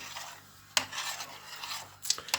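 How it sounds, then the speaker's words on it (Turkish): Pelte pudding mixture is stirred in a pot, a soft continuous scraping swirl broken by a few sharp clinks of spoon against the pan. "Karıştırıyorsunuz. Karıştırın ki olsun. Kıvamı olsun."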